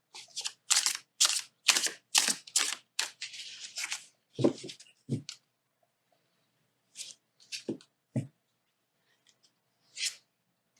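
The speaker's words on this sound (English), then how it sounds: "Okay, so if you do an overhand shuffle, it will sound like this." Tarot cards being overhand shuffled by hand in quick crisp bursts, a steady rhythmic riffle of flicks that trails off into a few sparse slaps near the end.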